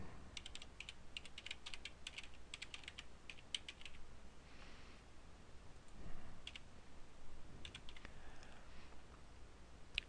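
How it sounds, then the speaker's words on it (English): Soft, uneven bursts of keystrokes on a computer keyboard as a web address is typed, quiet and close with brief pauses between clusters of clicks. "you of course would type in the address of"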